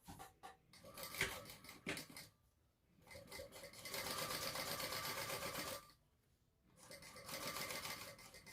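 A sewing machine stitches a seam on a sling bag in bursts of steady running, pausing briefly between passes and then running again, close and alone with no talk.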